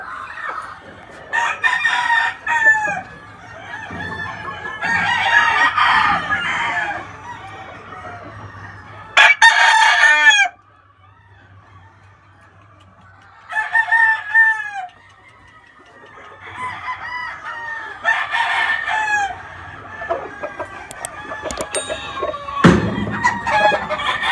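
A Kelso white-legged gamecock crows several times among clucking hens, each loud, close crow standing apart with short pauses between, while steady clucking carries on underneath.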